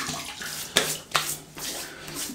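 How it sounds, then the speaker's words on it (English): Hands splashing water onto the face before a shave with a Gillette SkinGuard cartridge razor: soft close sloshing and dripping with two sharper splashes in the middle, quiet and without talk. "Right, wet the face."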